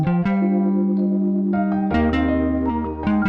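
A low, sustained bass melody moves between a few held notes, smooth and resonant, with a faint echo and no voices.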